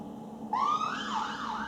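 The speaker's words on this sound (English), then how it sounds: "Apologies for the siren." An emergency vehicle siren on a main road wails up and down, starting abruptly and sweeping in pitch over a low traffic hum, fairly distant and heard indoors.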